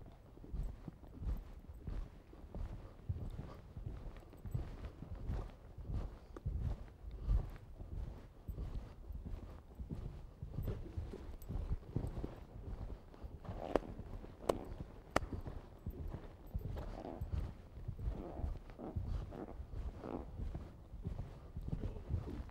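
Horse hooves thud rhythmically during a jumping training session over poles and fences, a steady, moderately close clip-clop cadence that continues throughout, fairly faint.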